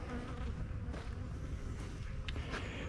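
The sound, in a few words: bees buzzing around hives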